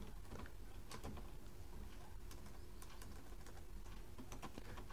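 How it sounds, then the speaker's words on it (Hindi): Steady typing on a computer keyboard while entering text into a table in MS Word, continuous soft key clicks alone over a constant low background hum. "अब टाइप करते हैं स्टूडेंट नेम"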